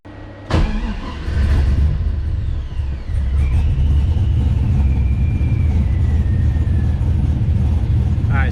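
An LS-swapped Nissan 240SX catches after a throttle adjustment with a sharp crank, then settles into a loud, rumbling, uneven idle with a faint whine gliding through it.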